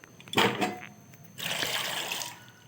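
Small new potatoes are washed in water in a kitchen, giving close splashing and rinsing bursts, a short sharp one early and a longer running swish later.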